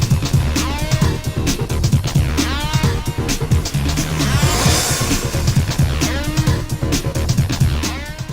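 An RGT EX86181 Crusher RC crawler runs on a brushless road-car motor, its motor whining in repeated rising and falling sweeps as it speeds up and slows, with a continuous buzzy drive-train whir throughout.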